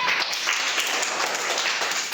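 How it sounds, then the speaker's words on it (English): A dense burst of hand clapping from several people, close and continuous, filling two seconds with a crackling, even texture. "Clap."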